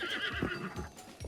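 A horse in a Zelda video game whinnies loudly and close, with clip-clopping hooves beneath it, all over in about a second.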